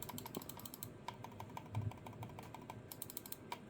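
Silent switches on an Incott G23 Pro hot-swappable gaming mouse give soft, muted clicks in quick irregular bursts, close up, with faint handling noise and no talk.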